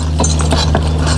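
Draft horses working a hay field, their hooves thudding in a steady clip-clop rhythm over a loud, constant low engine-like hum.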